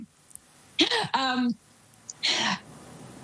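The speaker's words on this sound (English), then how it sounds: "Sorry, I'm going to cough." A few harsh, breathy coughs close to the microphone, two in quick succession, then another after a short pause, against quiet background.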